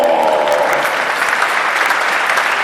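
Loud, dense applause fills the space for a couple of seconds, steady and close, with a brief voice at the start.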